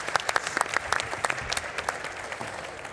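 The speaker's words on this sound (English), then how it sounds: "Hand of applause, please." An audience claps for panelists at a conference on technology and poverty, a brisk burst of many hands with sharp individual claps standing out, fairly close and tapering off over a few seconds.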